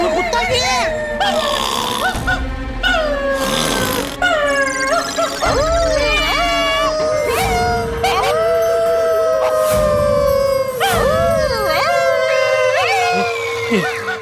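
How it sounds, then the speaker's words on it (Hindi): A dog's long, wavering howls rise and fall repeatedly, loud and near, mixed with yelping and a cacophony of other animal-like cries across the whole stretch. "घर में कुत्ता भी है।"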